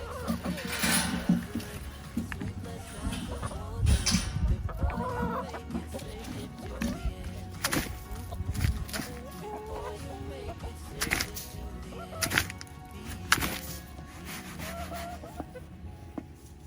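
Backyard homestead chickens clucking and murmuring close by at feeding time, a busy scatter of short calls mixed with rustling and scuffing near the microphone.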